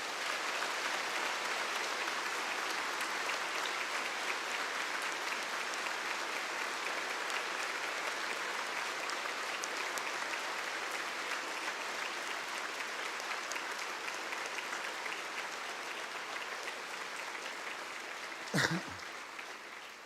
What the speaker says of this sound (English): can I ask all of you to give a big and long round of applause for everyone that has brought you here